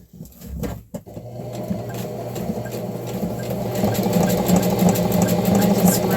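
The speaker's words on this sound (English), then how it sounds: "I'm going to switch over to zigzag" A sewing machine zigzag-stitches along the edges of thrifted sheet fabric for a peasant blouse, a steady whirring hum that builds after a few soft clicks at the start, heard close up.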